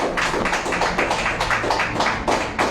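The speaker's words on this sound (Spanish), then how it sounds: "Denle un buen aplauso a Cristo" A church congregation claps steadily together, a dense even run of hand claps sustained throughout with no voices over it.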